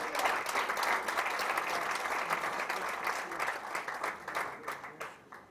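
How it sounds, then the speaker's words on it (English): A crowd applauds new members at a Rotary Club charter night, a dense, lively clapping that swells early, stays steady and thins toward the end, with some scattered voices underneath. "Give them a round of applause."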